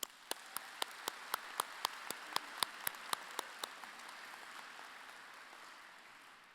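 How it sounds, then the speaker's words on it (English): Convocation audience applauding honored guests in a hall, a faint, distant patter of many hands with a few distinct near claps in a steady rhythm that fade away after a few seconds. "join me in a round of applause for all of our honored guests"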